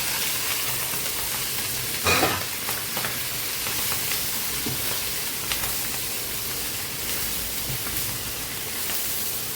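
Already-fried vegetables go into a pot for a one-pot rice meal and set off loud, continuous sizzling and hissing. Stirring scrapes and a few sharp clinks break through close by.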